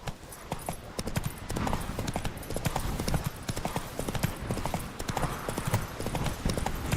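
Roach, a horse in The Witcher 3: Wild Hunt, gallops steadily with rapid rhythmic hoofbeats, close and continuous under ambient game sound, with a brief whinny-like tone.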